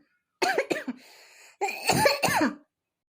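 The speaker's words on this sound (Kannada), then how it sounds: "ಯಾಕನ ಇದೊಂದು ಕೆಮ್ಮು ಅಂತ ಹಚ್ಕೊಂಡ್ ಬಿಟ್ಟತಿ." Several harsh coughs and throat-clearing bursts in quick succession, loud and close, with a short pause between two clusters and no talking.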